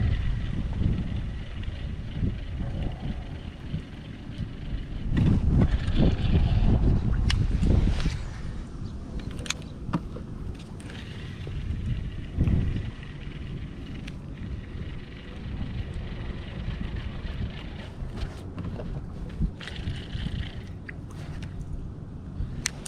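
Wind on a small Texas lake during kayak bass fishing: a rough, gusting rumble buffeting the microphone, swelling strongly partway through, then easing back to a steadier blustery wash.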